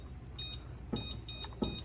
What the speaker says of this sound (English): I'm going to turn my timer on